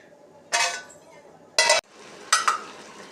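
Drumsticks (moringa pods) sautéed in a little oil and stirred in a pan, giving three short bursts of scraping and clinking from the ladle against the metal, with a quiet sizzle between them and no talk.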